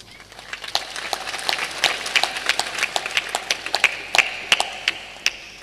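An audience at a spiritual discourse by a Hindu saint claps their hands together in a brisk, uneven rhythm, with many sharp claps piling up at a fairly close, steady level.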